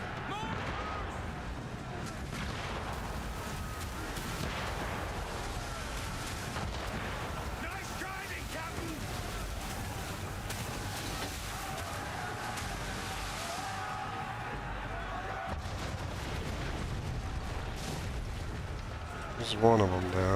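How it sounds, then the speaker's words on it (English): Mortar fire in Assassin's Creed III thumps and booms repeatedly over a dense battle din, with guns crackling and a heavier burst close by near the end, while a voice talks throughout. "they have magical freaking homing mortars"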